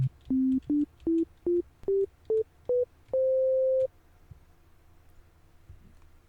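Short beeps of a pure synthesizer sine wave stepping upward in pitch, then one longer held tone, each clean and smooth with nothing else in it, followed by near silence.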